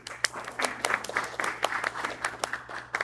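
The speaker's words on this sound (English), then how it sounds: "we're going to clap for them anyway." An audience at a book signing for healthcare authors claps, a moderately faint, steady patter of many hands with sharper individual claps scattered through it, and no talking.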